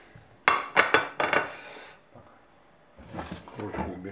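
A few sharp ceramic clinks ring out in quick succession as a plate is handled, followed by quieter knocks and shuffling, with a voice speaking briefly.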